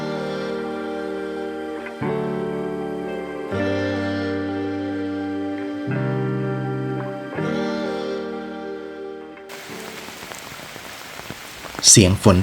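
Steady rain patters on a treehouse balcony in a forest in Chiang Mai, Thailand, beneath sustained, shifting musical tones; near the end the tones drop away and the rain grows louder and busier, with a few sharper splashes.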